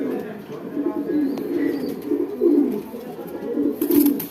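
A young male pigeon with a round head and short boot-like beak coos in a steady, low, throaty murmur, with other birds faintly behind and a brief voice near the end.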